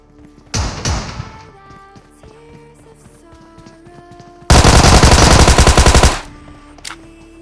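A Tommy gun fires in a mobile battle-royale shooter, sounding as one loud, rapid automatic burst of about a second and a half, after a couple of earlier thuds and over quiet game background.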